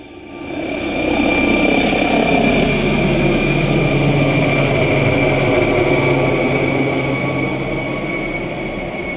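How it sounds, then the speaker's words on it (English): Helicopter lifting off in the Grand Canyon: a loud, steady rotor and engine roar holds close and strong for the full length, easing slightly toward the end, with no voices. "the helicopter was off again"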